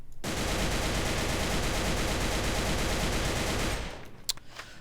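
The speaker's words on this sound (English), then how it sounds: "I'll go ahead and show you guys the recoil pattern without managing the recoil." An AK-12 rifle firing full auto in a video game, one loud, dense continuous burst lasting nearly four seconds, then a few faint clicks after it stops.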